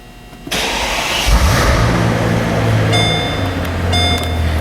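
A 2005 Mercedes-Benz SL65 AMG V12 cranks and fires with a sharp burst, blips up in a loud rev, then settles into a deep, even idle close by.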